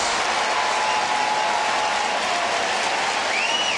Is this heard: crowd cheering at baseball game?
yes